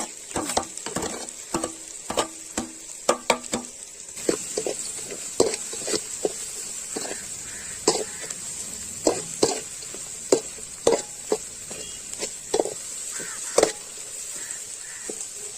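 Onions frying in a pan for chicken uppu curry, with a constant sizzle and repeated scraping and stirring clicks from a utensil throughout.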